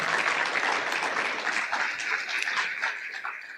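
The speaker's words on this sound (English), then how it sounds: "Give him another round of applause." A church congregation gives a dense, even round of applause that stays strong and steady throughout, then eases slightly near the close, with no voices over it.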